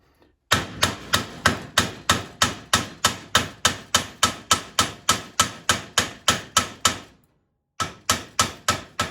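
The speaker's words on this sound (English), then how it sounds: "you're going to hammer on it, but you don't want to hammer on the bottom part" Rapid, evenly spaced hammer blows ring out on the end of a metal rod, about twenty sharp strikes in a row, a short pause, then several more.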